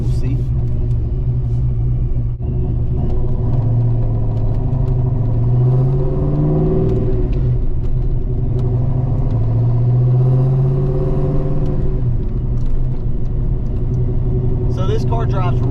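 A Foxbody Mustang with a T5 gearbox, B-cam and Moates Quarter Horse tune, cruising in third gear at about 15 mph: a steady, close, low engine rumble with a few slow rises and falls in pitch as the throttle changes.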